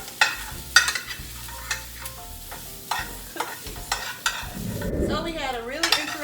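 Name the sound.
Swedish meatballs frying in a pan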